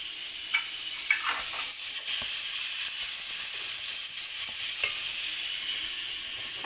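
Onions sizzling steadily in a preheated tagine for a lemon confit dish, a continuous close hiss with occasional stirring clicks and scrapes, no talking.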